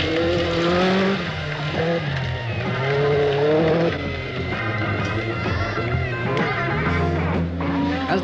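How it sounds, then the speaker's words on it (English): Audi Quattro rally cars race in the 1984 World Rally Championship, their engines roaring loud and continuous with rising and falling revs as they accelerate and shift, filling the whole stretch without pause. "In the early stages, the Audi Quattros took control, but Peugeot was close behind."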